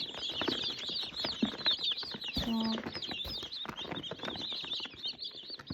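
Chickens, including grey broilers, cluck and chirp nearby in a busy, continuous flock chatter, with a brief higher squawk partway through.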